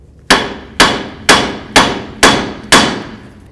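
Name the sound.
hammer tapping steering knuckle of a Jeep Cherokee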